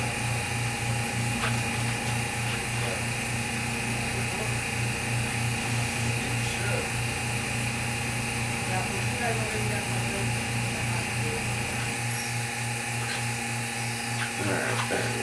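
A power drill drives cap screws through on a lamination line, producing a continuous, loud, steady mechanical whine and hum that runs the whole time.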